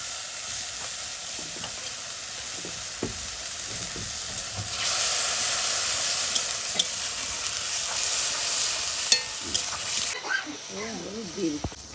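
Onion, ginger and garlic hiss and sizzle in hot oil with a bay leaf, a steady close frying noise that rises in intensity midway, with utensil scrapes and a voice speaking near the end.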